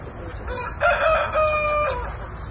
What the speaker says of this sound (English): Little Partridge Wyandotte Cochin pullet. She's 6 months old, just started laying eggs.